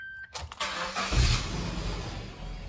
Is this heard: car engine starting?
yes